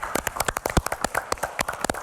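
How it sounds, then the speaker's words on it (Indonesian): A studio audience applauds a guest on an Indonesian television health program, with scattered, uneven claps at moderate volume and no talking. "Tepuk tangan dulu untuk Pak Hardono."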